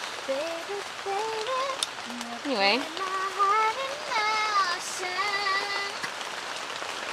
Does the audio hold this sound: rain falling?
yes